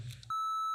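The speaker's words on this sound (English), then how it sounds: "And I can do a beep and then say the word that she says and do a beep." A brief muffled rustle is cut off by a clean, steady electronic beep, a single pure sine tone that holds at constant loudness for about half a second.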